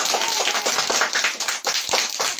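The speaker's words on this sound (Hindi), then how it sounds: "तालियां बजाओ" Children clapping together at a Diwali gathering, a dense, continuous patter of many small hands, loud and close, with uneven bursts and no voices over it.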